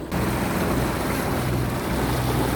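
A boat motoring across Lake Alexandrina, a steady broad engine and water rush with wind buffeting the microphone, continuous and fairly loud throughout without any voices.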